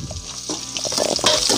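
Ginger and green chillies fry in hot oil for Kerala-style lemon pickle, a bubbling, crackling sizzle that swells louder toward the end as the pan is stirred.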